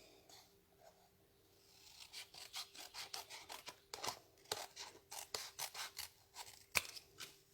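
Scissors snip through card paper in a quick series of crisp, close cuts, starting sparse and then coming in rapid bursts, faint and alone without talk.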